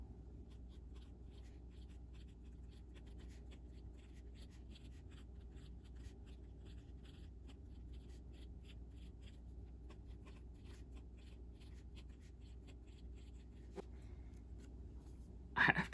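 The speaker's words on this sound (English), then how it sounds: "Now for a quick writing sample." A fountain pen with a smooth nib scratches steadily across paper, writing in blue-black ink. The soft, close scratching runs continuously and faintly for the whole stretch, with no voices, and ends in a brief louder rustle.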